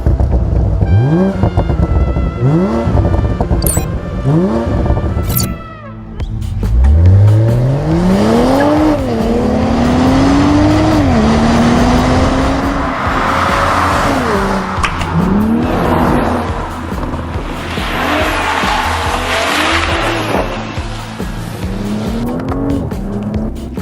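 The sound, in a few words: BMW 840i Gran Coupe B58 inline-six turbo engine driving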